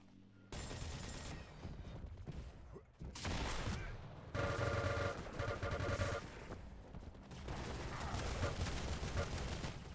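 Gunfire in Quake, including the nail gun, rattling in dense bursts during a competitive duel match, loud and continuous with short gaps, with a commentator talking over it.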